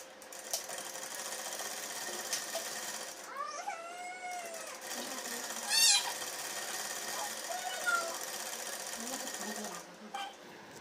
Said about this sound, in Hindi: इसी लेस पे मैं एक और सिलाई लगा दूँगी।